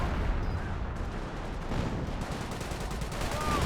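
An artillery barrage rumbles steadily in a Company of Heroes 1 battle, with dull low thuds and crackling impacts spread over a dense, moderately distant bed of battle noise.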